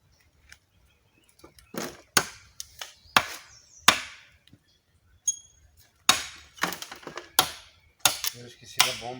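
Dry firewood sticks for a bonfire are snapped with the leg, giving a run of sharp, close cracks and splintering snaps at irregular intervals, with brief quiet gaps between breaks.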